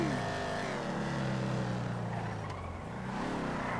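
A car in GTA 5 drives along with a steady, droning engine hum that rises and falls slightly in pitch, loud and continuous throughout.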